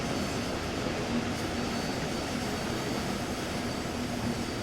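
Train rumbling steadily in the video game Train Sim World, a continuous low engine drone with faint tonal hum, heard alone at moderate level throughout.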